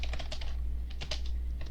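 Code is being typed on a computer keyboard for a simple object-oriented program, heard as a quick close run of light key clicks over a steady low hum.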